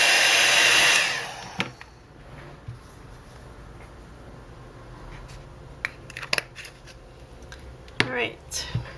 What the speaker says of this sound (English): I'm going to heat this up so that it re-melts the embossing